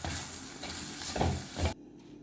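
Ground spice powder is stirred into mushroom chukka in a pan, giving close, noisy scraping and swishing strokes over a faint sizzle before the sound drops away abruptly.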